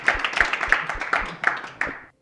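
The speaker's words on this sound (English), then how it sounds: "everyone give a round of applause for the chowder heads" A small group claps for the competing team at a cooking competition. The claps come in a short, distinct rhythm, a handful of sharp strikes spaced a fraction of a second apart, close by, then stopping abruptly.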